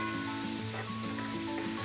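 Rinsed black beans tumble into a pan of sautéed onions, setting off a steady, close sizzle of frying with faint stirring scrapes and no talking.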